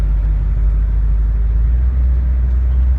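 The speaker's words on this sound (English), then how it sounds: "the sound, of course, is something that you can only get from a vintage Mustang" A 1967 Shelby Mustang GT500 idles in slow traffic, its vintage V8 giving a close, steady, heavy low rumble throughout.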